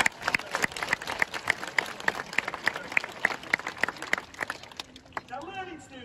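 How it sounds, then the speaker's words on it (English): Audience at a Flamingo Land sea lion show claps in sharp, rhythmic, fairly even beats, then the clapping fades as a voice speaks over the amplified sound system. "Give him a clap, nice clap."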